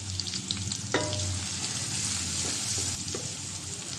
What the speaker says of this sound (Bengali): হলুদের গুঁড়াটা আমি তেলের সাথে ভেজে নিতে আছি